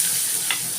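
Onion frying in hot oil and ghee, a steady close sizzling hiss with one faint stirring scrape partway through.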